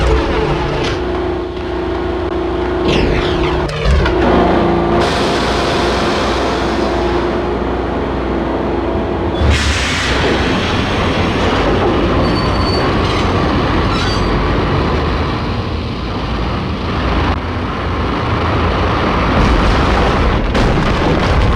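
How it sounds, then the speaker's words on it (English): A train in the Max Payne video game rumbles along loudly and continuously, with a heavy rolling drone, metallic clanks, a sharp burst of noise early on and a jolt midway, and no speech. "The train lit up like a Christmas tree."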